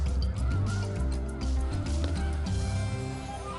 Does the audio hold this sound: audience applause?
no